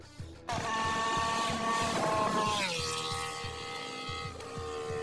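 An Aprilia Tuono V4 1100 Factory with a 1,099cc V4 engine revs hard, its loud, tonal howl rising, dropping and climbing again across several gear changes.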